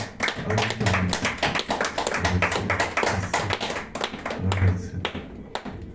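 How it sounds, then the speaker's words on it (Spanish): A church congregation claps in a steady, rhythmic unison beat, loud and close, with voices faintly mixed in before it trails off near the end. "Vamos a darle un fuerte aplauso a Cristo."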